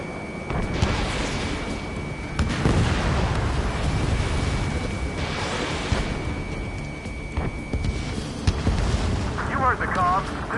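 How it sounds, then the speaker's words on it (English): Heavy gunfire and explosions roar through a combat mission in Ace Combat 7, a dense continuous barrage of booms and bursts with radio voices talking over it. "We're taking heavy fire."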